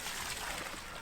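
Soapy water mixed with eco shampoo pours steadily into a hedgerow, a continuous close splashing trickle lasting about a second with no pauses.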